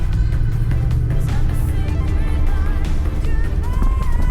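A Chevrolet Colorado ZR2 truck driving over bumps at 30 mph off-road, with a loud, continuous low engine and tyre rumble close by and scattered knocks from the suspension.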